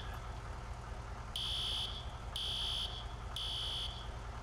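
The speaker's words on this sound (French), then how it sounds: "il y a une alarme qui sonne" Alarm ringing in the video game EmergeNYC, three even, loud shrill electronic tones about a second apart over a steady low rumble.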